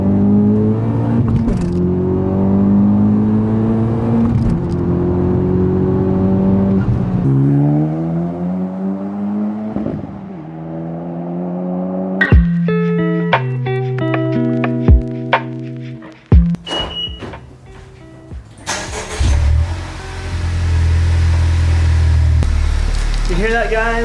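Honda Civic Type R with a Skunk2 exhaust revs up in a rising, sustained engine drone, then idles and blips through a series of shorter revs, heard close and loud.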